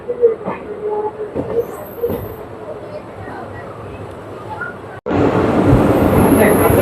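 A train runs past Kumbalam station on the Aroor–Ernakulam stretch. Quiet cabin sounds with faint talk give way suddenly to a loud, steady roar of wheels and rushing noise.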